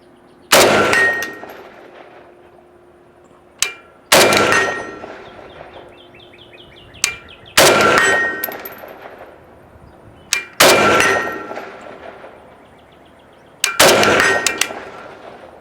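Five loud rifle shots fired one at a time at a target 100 away, each a sharp close crack with a ringing tail, spaced about three seconds apart, with a faint metallic click between some of them.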